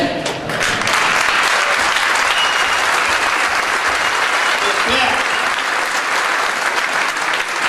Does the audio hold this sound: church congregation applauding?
yes